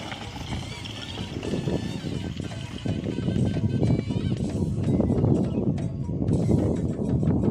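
Busy outdoor scene at a cattle event in a field in Bangkalan, Madura, with rhythmic hoof clatter from cattle moving close by, amid crowd chatter and a faint bell.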